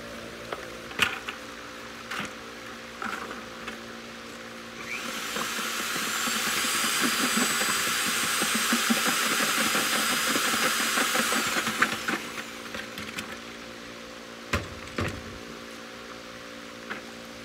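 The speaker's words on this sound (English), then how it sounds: "Mixing paddle and drill." A power drill whirs steadily for several seconds, churning a mixing paddle through dyed high-strength cement mix, with clunks and handling noise before and after.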